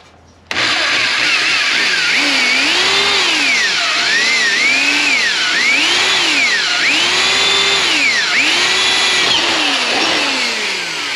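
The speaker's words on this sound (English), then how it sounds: "let's drill, drill, drill, drill, baby, drill. This is aluminum, so it should go through it like hot butter." A power drill bores through aluminum with a dull bit, its motor whine sweeping up and down repeatedly as the bit bites and eases off, loud and close for about ten seconds without speech.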